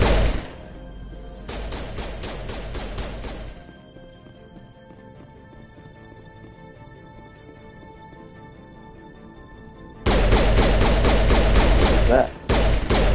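Pistol gunfire in the Mass Effect video game on Insanity difficulty, loud bursts of rapid shots at the start and again near the end, separated by a quieter stretch of low ambient hum.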